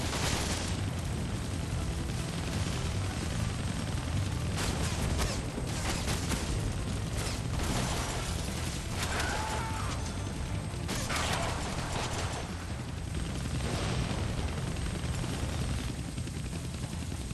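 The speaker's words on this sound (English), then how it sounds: "I can't kill that chopper with my guns, but I can scare him." Steady, loud helicopter rotor drone from an enemy chopper in the video game Deadpool, filling the clip under mechanical clanks and bursts of in-game action noise.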